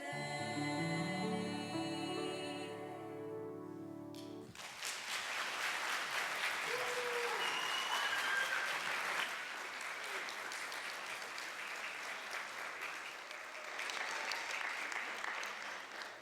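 An audience at a high school fine arts festival applauds a choir and band ensemble, sustained clapping rising after the last music fades and continuing steadily, fairly loud and close, for the rest of the clip.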